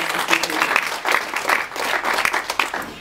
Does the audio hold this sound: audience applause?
yes